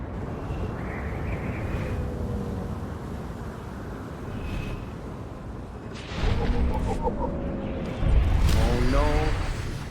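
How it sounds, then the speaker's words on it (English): Fireworks burst in the video game Star Wars: The Old Republic as a dense, rumbling wash of booms and crackle, swelling into louder, sharper bursts near the end. "think the fireworks got a little out of hand."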